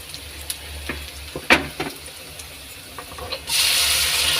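Chopped tomatoes sizzle in a pan for pav bhaji, a soft frying hiss broken by small clicks of stirring, then a louder burst of sizzling near the end.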